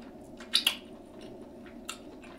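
Chewing on fried seafood and Jamaican oxtails, with a few close, wet squishy bites and smacks over a low steady background, no talking.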